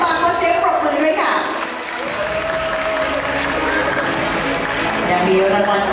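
Audience applause fills a Miss Universe Thailand Samut Prakan 2023 final show at the crowning, a steady, loud wash of clapping from a large crowd that continues throughout, with a voice speaking over it.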